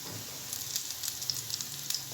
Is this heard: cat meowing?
no